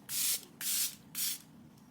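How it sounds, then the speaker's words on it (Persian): Three quick bursts of setting spray mist onto a face after makeup, each a short airy hiss with brief gaps between, close and fairly soft with no talking. "یه اسپری میکنیم صورتمون"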